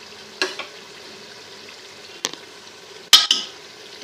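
Beef korma with fried onions stirred in a pot, giving a few short scraping stirs with quiet sizzling between them.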